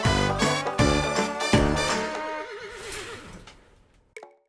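Loud, harmonic horse neighs in a video game repeat in quick succession, several whinnies overlapping and trailing into a wavering call, then fading, with a short sharp sound at the end.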